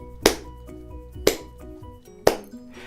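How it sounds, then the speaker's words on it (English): Three crisp hand claps spaced evenly about a second apart, a steady quarter-note beat for a young children's music class, close and distinct with light room ring and no voices. "Try clapping that with me."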